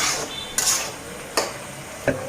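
A spoon stirs a pot of bottle gourd leaf curry with prawns, three distinct scraping strokes against the pot over a steady bubbling sizzle, close and fairly loud.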